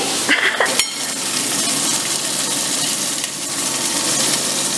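Food browning in hot fat, with a steady close sizzle and frying hiss throughout, a few light clinks and a stir near the start, no voices.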